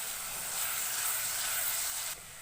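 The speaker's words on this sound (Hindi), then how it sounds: "1 मिनट के लिए लहसुन अदरक को प्याज के साथ भून लेंगे।" Garlic-ginger paste and onions fry over a high flame, giving a steady, fairly faint hiss and sizzle that runs unbroken and then drops slightly near the end, with no voices.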